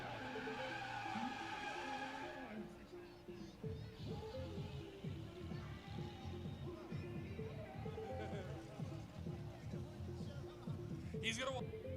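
A drift car doing a burnout at an evening drift and stunt show, tires skidding and squealing in a sustained roar with engine revving, heard under loud amplified announcer talk and crowd noise.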